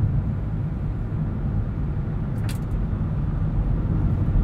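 Steady low road rumble and tyre noise from a 2020 Hyundai Ioniq EV Limited electric car driving normally, a constant broadband drone inside the cabin with no engine note and a brief faint high tick midway.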